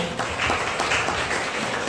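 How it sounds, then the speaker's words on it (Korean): An audience claps for a speaker at a careers guidance event, producing a short, moderately loud patter of applause that sounds somewhat thin and distant. "큰 박수 한번 부탁드릴게요"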